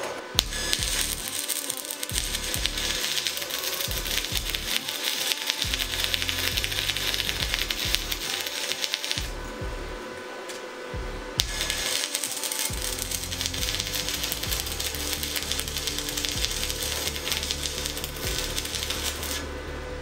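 Welder powered by an Anker Solix C1000 power station at a 70 setting, giving a loud, continuous crackling buzz with sputtering pops that stops for about three seconds midway, then resumes.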